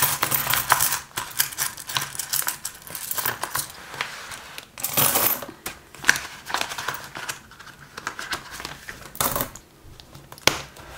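A pile of euro coins is sorted and counted by hand up close, giving irregular metallic clinks, clatters and brief rattles that come in uneven bursts throughout.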